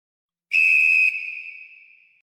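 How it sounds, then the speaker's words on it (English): A single sharp whistle blast, loud and close, holds for about half a second and then trails off in a thin fading ring, with silence around it. "We'll talk about it after the whistle."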